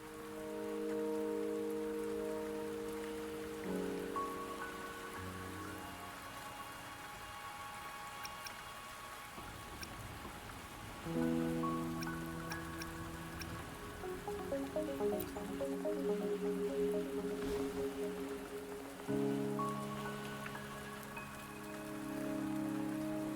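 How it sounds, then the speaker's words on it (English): Rain falls steadily on surfaces in the video game Wuthering Waves, a soft continuous patter with drips, faint beneath sustained game music. "Don't worry, the rain won't last much longer."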